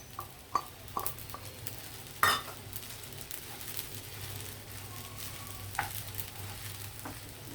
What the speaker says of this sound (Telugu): ఇవి కలిపిన తర్వాత మనం ఈ స్క్రంబుల్డ్ ఎగ్ కూడా వేసేద్దాం.